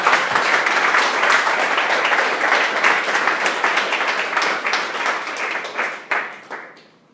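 Audience applause after a software talk, dense steady clapping from a crowd that holds for several seconds, then thins and fades out at the end.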